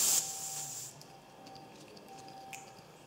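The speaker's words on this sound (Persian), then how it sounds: "منتظر میشیم تا تمامی گاز به داخل فندک ما منتقل بشه" Butane gas hisses sharply from a canister into an S.T. Dupont lighter being refilled, a loud burst that drops to a fainter, steady hiss for under a second before quiet returns.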